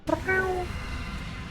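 A person imitates a cat with a single drawn-out vocal meow, short and fairly close, fading into quiet room background.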